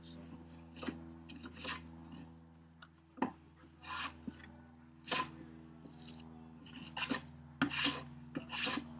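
Hand plane shaving across a wooden carpenter's workbench top to flatten it, a series of close raspy strokes at an uneven rhythm over a steady low hum.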